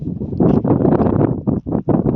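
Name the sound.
strong wind on a high hill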